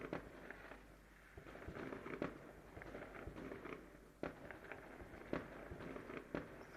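Distant New Year's Eve fireworks pop and crack every second or so, sharp faint bursts over a steady outdoor rumble, with no one speaking.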